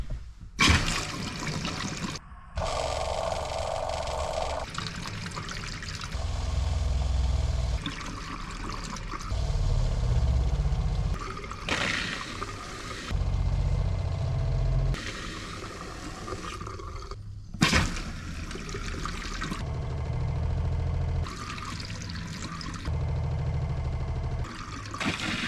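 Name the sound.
antifreeze pumped through camper faucet lines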